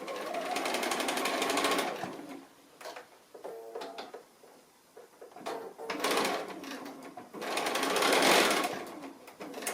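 A sewing machine stitches fabric for a chook-shaped pin cushion, running in two whirring bursts of steady rapid needle clatter, with quiet handling clicks and shuffles in between.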